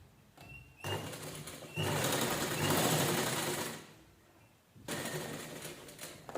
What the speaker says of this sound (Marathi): सगळे असंच एकसारखे स्टिच करून घ्यायचे.